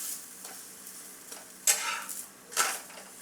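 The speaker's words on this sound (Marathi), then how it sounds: "थोडंसं मी अजून पलटी करून भाजून घेते" Methi and coriander breakfast cakes pan-roasting in a little oil after being flipped, a soft steady sizzle with two sharper scraping bursts from the spatula pressing and turning them.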